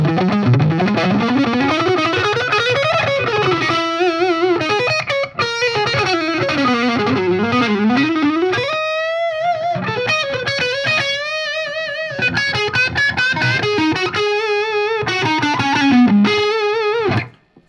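Electric guitar played through a high-gain distortion pedal from Amazon, a thick saturated tone running continuously with sliding bends, sustained notes and quick phrases, loud and alone until it cuts off at the end.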